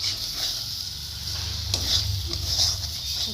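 Egg bhujia sizzling in a pan over raised heat while a spatula stirs it, a steady hiss with scraping strokes against the pan bottom, close and fairly loud with no talk.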